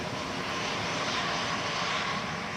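A KLM airliner at Manchester Airport roars steadily in a broad, even engine rush, fairly distant and unchanging for a few seconds with no voices over it.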